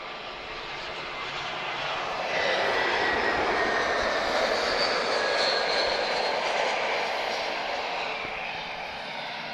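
A Lufthansa airliner arriving at Lisbon Airport makes a broad, steady jet roar that swells and holds at close range, with no voices over it.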